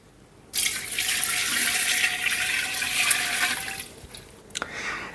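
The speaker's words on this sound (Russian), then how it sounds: "Следом заливаем воду." Tap water gushes loudly into a soup pot for kharcho, starting abruptly and pouring steadily before tapering and cutting off near the end.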